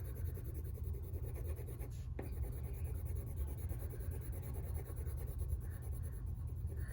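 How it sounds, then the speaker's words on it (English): A blue pencil crayon rubs steadily across paper in continuous scratchy strokes, soft and close, with no break except one brief tap partway through. "now I'm going to take a blue pencil crayon and I'm just going to color the inside in with pencil crayon"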